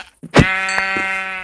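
A sheep in Minecraft gives one loud, close, sustained bleat with a buzzy tone, following a short thump, with no talking.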